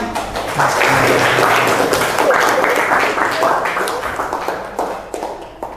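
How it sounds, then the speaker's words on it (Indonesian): A class of student teachers claps for a group after its presentation, a dense, close round of hand claps with a few louder individual taps, rising quickly and tapering off toward the end. "Ya, tepuk tangan."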